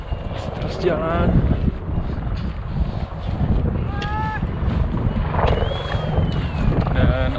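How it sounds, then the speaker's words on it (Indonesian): Wind buffets a high mountain trail on the Everest Base Camp trek near Lobuche, a steady low rushing roar under people talking. "Dan angin lumayan di sini."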